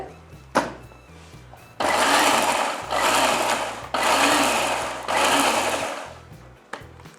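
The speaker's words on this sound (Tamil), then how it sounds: "ரொம்ப நைஸாக அரைக்கக்கூடாதுங்க, அரைக்குறையாக தான் இருக்கணும்" An electric mixer grinder pulses on garlic herb sauce in four loud bursts of whirring motor noise, each a second or so long, separated by brief pauses, close by with no talk.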